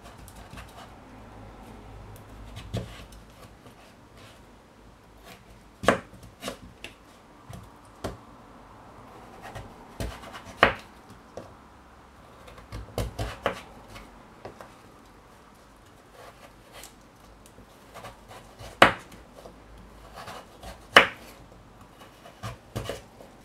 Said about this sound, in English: Just going to cut these into cubes to put on and boil.